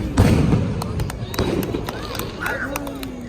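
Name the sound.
firecrackers exploding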